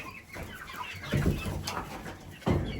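Chickens clucking and a bantam rooster's short crowing calls, close by, in a few rising bursts over a couple of seconds.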